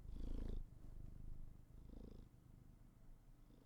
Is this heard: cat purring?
yes